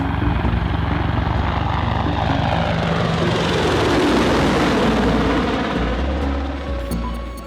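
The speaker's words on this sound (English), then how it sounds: "An Apache helicopter flies over a neighborhood in Baghdad." An Apache helicopter's thudding rotor and engine roar pass overhead, loud and steady, swelling as it nears and fading slightly at the end.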